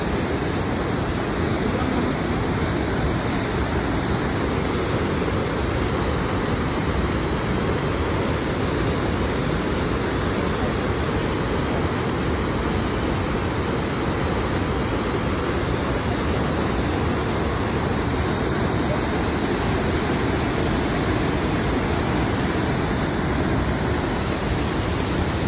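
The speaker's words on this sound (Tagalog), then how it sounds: "Sobrang lakas ng current ng tubig." Crescent Falls waterfall pouring with a strong current, a steady, loud broadband rush of water that holds constant throughout with no voices over it.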